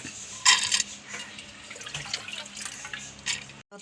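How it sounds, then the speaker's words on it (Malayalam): Water splashes and trickles into a cooking pot for a dal, cucumber and mango curry, in uneven bursts with a few louder gushes, close by and with no talking. "വെള്ളം ഒഴിക്കണം"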